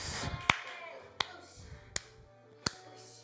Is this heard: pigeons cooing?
no